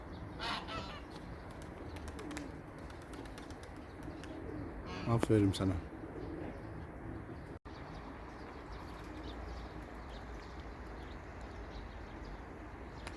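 Pigeons coo softly in the background with a brief burst of wing flapping, while a person speaks briefly nearby over steady outdoor ambience.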